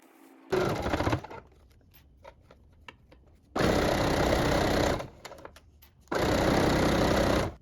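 A sewing machine stitches down the folded edge of a fabric strap for a sewing machine bag, running in three loud, steady bursts of close motor whir and needle chatter separated by quiet pauses with small handling clicks.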